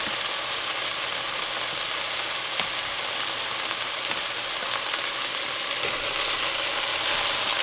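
Gnocchi browning in a pan make a loud, dense, continuous sizzle with fine crackling, close up and unbroken, with no voices over it.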